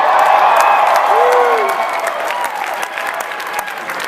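A large audience applauds and cheers loudly at a live event, a dense wash of clapping with a few whoops and a rising whistle-like cry, while a voice talks faintly beneath.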